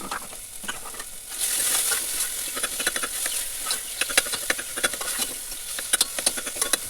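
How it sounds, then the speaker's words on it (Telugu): Tomatoes frying in oil in a pan give off a steady sizzle, with sharp clicks and scrapes from stirring that grow more frequent partway through. Nobody speaks. "నూనెలో బాగా వేయించాలి"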